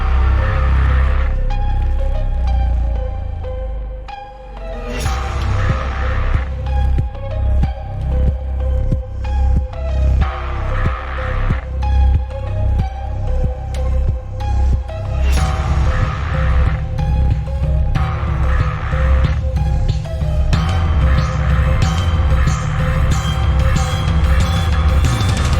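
Dark, uneasy electronic music intro built on a huge pulsing bass with a kick drum baked into it, loud and rhythmic, with a brief drop near five seconds before the throbbing beat resumes and layers build.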